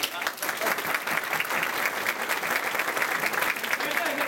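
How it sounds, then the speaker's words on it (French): Polite applause from a theatre audience at a dinner-theatre comedy show, even clapping sustained for a few seconds at moderate volume. "Juste un petit applaudissement."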